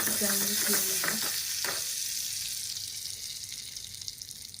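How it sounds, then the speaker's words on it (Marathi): Turmeric heating in a little hot oil for paneer tikka gives a close sizzle with a few stirring clinks early on, then settles into a softer, fading fry. "आता करते मी हळद गरम करते थोड्याशा तेलामध्ये"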